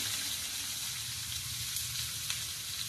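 Chopped onion sizzling in hot oil in a pan for potato sabji, a steady, bright, hissing fry held at even loudness throughout, close and without talk.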